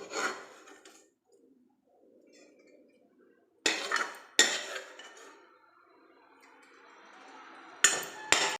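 Neem flowers being moved from a pan onto a plate, giving a few sharp metallic scrapes and clinks of a utensil against metal, separated by quiet gaps.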